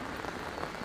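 Rain falling in London, heard as a steady soft patter and hiss spread across the whole moment, with no voices.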